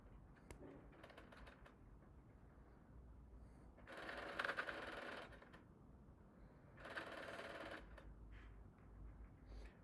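A sewing machine runs a zigzag stitch around the edge of a cotton dish towel in two steady bursts of a few seconds each, faint and close, with quiet fabric handling and clicks between them.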